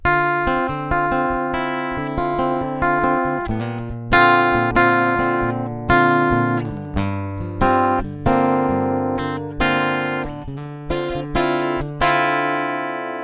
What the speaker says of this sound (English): I'm playing on a Yamaha A3M acoustic guitar,